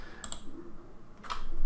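Computer mouse clicks and keyboard typing on a Windows 10 PC, a couple of quick sharp clicks near the start and a short burst of keystrokes near the end, quiet and close with no talking.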